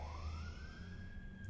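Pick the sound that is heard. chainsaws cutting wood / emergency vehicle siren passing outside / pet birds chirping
emergency vehicle siren passing outside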